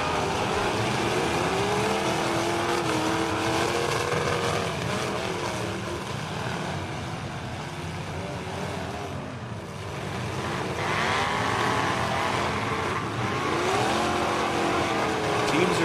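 A drag race car accelerates down the track, its engine tone climbing through rising harmonic sweeps, loud and sustained with a brief dip midway, while a voice may talk underneath.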